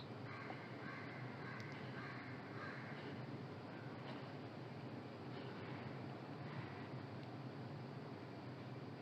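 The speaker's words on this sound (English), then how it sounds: "the crows are loud." Crows caw outdoors on a bright day in faint, repeated calls that recur across the stretch over a quiet, steady background hiss.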